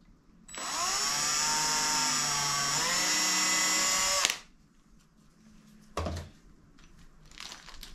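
A power drill whines steadily for several seconds, its pitch dropping slightly as the bit bites into a cup, then stops, followed by a short clatter and faint handling noise.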